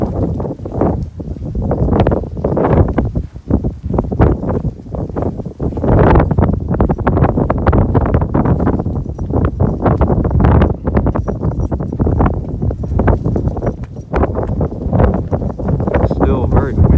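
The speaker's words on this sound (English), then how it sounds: "Still very windy." Strong, gusty winter wind buffets the microphone at a tent campsite in heavy bursts, roaring and thumping almost continuously with no clear pauses.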